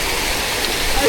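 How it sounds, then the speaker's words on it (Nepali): A river stream flowing through jungle, a steady close rush of running water with no pauses across the brief stretch. "उता यो मेन खोला कुन हो माथि ठुलो पानी परेको छ भने हल्लै आउँछ"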